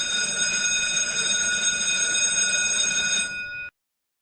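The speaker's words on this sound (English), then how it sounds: "hammer hits against the gong, producing the ringing sound" An electric bell, its hammer striking a gong, rings continuously with a bright metallic clatter for a few seconds, then cuts off abruptly into silence.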